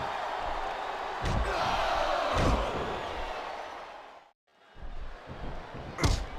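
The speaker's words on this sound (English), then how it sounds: "Sounds like this crowd's got something on their minds, King." Arena crowd noise from the WWE 2K24 wrestling video game, a steady roar with sharp slam-like impacts over it, dropping briefly to near silence before the crowd swells back.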